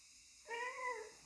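A pet cat gives a single soft, drawn-out meow, fairly faint and close, in an otherwise quiet home.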